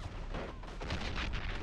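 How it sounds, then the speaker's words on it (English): Anti-tank gun fire in the video game Men of War: Assault Squad, heard as dense, rumbling battle noise with blasts overlapping through the whole moment, loud and continuous. "Oh, AT gun."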